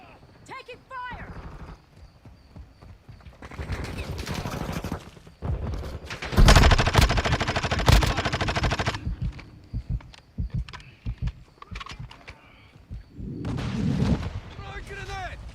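Bursts of in-game gunfire in Call of Duty Modern Warfare II during a hardpoint capture match, with a heavy, loud barrage near the middle and scattered shots before and after, mixed with game voice callouts.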